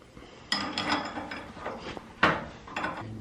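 A spanner working loose the nut on a steering ball joint, giving scattered metallic ratchet-like clicks and clanks with a few sharper knocks, close and moderately loud, with no talking.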